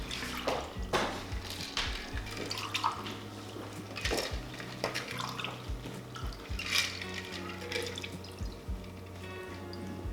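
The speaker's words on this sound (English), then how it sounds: "let me just pour this out" Liquid pours and trickles over ice, with clinks and small splashes in an irregular rhythm, close by and moderately loud, no talking.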